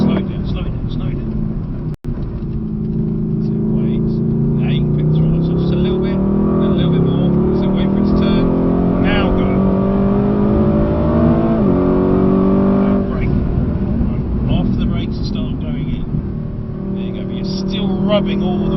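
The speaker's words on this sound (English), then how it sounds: "Now pick the throttle up, unwind and accelerate out." A Mercedes AMG GT engine accelerates on a handling track, a steady loud drone that rises in pitch and revs up toward the twelve-second mark, heard close from inside the car while an instructor talks throughout.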